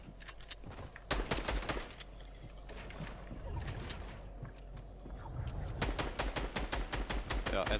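Gunfire in a Fortnite match comes in rapid, sharp bursts of repeated shots near the start and again in a dense volley toward the end, with a rumbling, quieter stretch in between.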